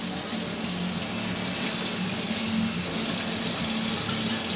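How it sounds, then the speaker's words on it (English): Cold tap water runs steadily over fish fillets being rinsed in a kitchen sink, a continuous close hiss and splash that grows slightly louder near the end, with no talking. "rinse them in some cold water"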